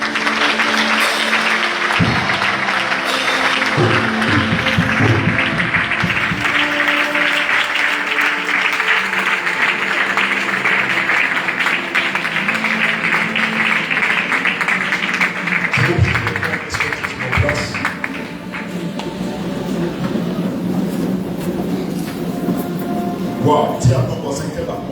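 A church congregation at a worship service applauds and cheers loudly and continuously, a dense roar of clapping and shouts with voices calling out throughout.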